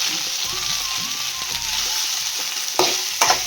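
Okra fries with urad dal and peanuts in hot oil, a continuous loud sizzle under scraping spoon strokes that stir the pan, with a couple of sharper clatters near the end.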